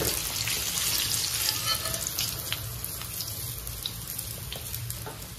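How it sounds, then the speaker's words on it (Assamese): KFC-style chicken pieces frying in hot oil, a steady dense sizzle and crackle that holds evenly throughout at close range, with no talk over it. "আমি ধুনীয়াকৈ ফ্ৰাই কৰি লওঁ"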